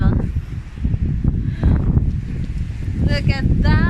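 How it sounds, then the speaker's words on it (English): Strong wind buffeting a microphone outdoors near the sea coast in the UK, a loud continuous low roar with gusts, and voices briefly audible toward the end. "It's so windy."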